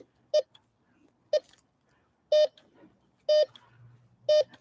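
A series of five short, clear electronic beeps from a Bounty Hunter Tracker metal detector at a steady rhythm, each a bright tone separated by quiet gaps.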